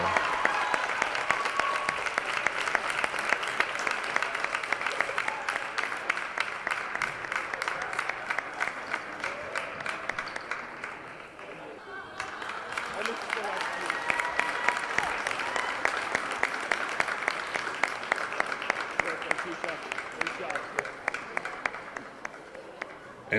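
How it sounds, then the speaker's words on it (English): A crowd at a high school girls' basketball senior night in a gym claps and cheers in sustained applause for over twenty seconds, with a brief dip midway before swelling again, fairly loud and filling the room. "Let's give a round of applause for number 13, Fatima Matamoros Aguilar."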